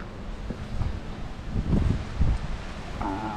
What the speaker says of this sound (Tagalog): Parang mas mahangin dito.